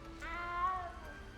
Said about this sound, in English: Looks like he's trying to get a cat down